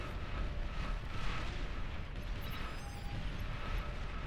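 A rumbling explosion in the strategy game Beyond All Reason blows up part of an enemy's economy: dense, sustained broadband roar and crackle holding steady for about four seconds, loud and close, with no talk.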